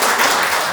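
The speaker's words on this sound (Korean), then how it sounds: "우리 이준배님의 가족들한테 경의의 박수 한번 보내드립니다." Loud, dense applause from an audience at a book concert, honoring the author's family, a close and continuous wall of clapping with no break over its short span.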